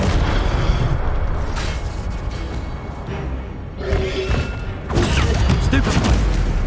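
The Incendio fire spell in Hogwarts Legacy bursts out as loud whooshing blasts amid busy combat noise, with a strong eruption near the end and a voice speaking during the fight.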